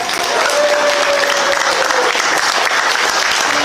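An audience applauds loudly and continuously, a dense wash of clapping hands that holds steady throughout.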